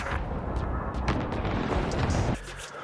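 Precision airstrike explosions in an Xbox video game: a burst of heavy booms and rumbling blasts rolls on for about two seconds, then cuts off abruptly into a quieter tail.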